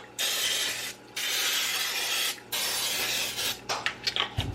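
Cooking spray hisses onto a pan in three long, steady bursts with short breaks between them, loud and close, followed by a few light clicks and taps.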